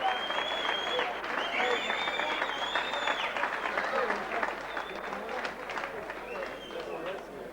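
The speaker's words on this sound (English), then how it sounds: "a big round of applause for a very gallant Oliver Olsen from Western Australia" A boxing crowd applauds steadily after a bout, a dense wash of clapping with scattered cheers and whistles, held at an even level across the whole stretch while a ring announcer talks over it.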